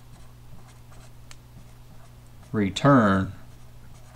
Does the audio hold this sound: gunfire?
no